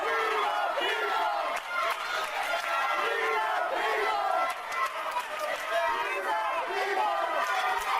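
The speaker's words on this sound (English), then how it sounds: "Listen to this crowd." A large crowd at a wrestling rumble event roars and cheers continuously, loud and dense throughout with chanting and shouts and no break.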